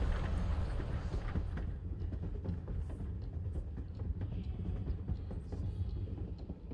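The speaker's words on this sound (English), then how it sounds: "The sound of the train is kind of relaxing though." A train rumbles along in the video game Life is Strange Before the Storm, a low, steady rolling drone with faint rhythmic clacks, quiet and continuous.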